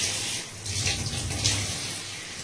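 Cool running water pours steadily while hair is washed, a continuous close splashing stream with small shifts in flow, heard alone.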